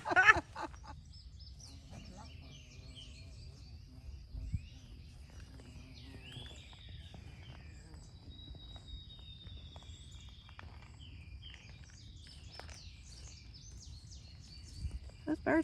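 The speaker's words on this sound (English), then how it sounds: "Those birds are singing, aren't they?" Birds chirp and call intermittently at a distance outdoors in a Tennessee state park, faint thin calls over a low rumble of footsteps and movement on a hiking trail.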